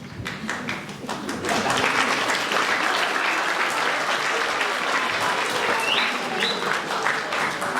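Sustained audience applause from a crowd at a lecture by Professor Krishne Gowda, dense and steady from start to finish, close and fairly loud, with no talking over it.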